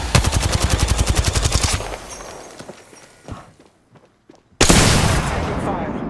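Fast automatic gunfire in Apex Legends rattles loud and close for nearly two seconds, then a lull with a few scattered sounds before another loud burst erupts.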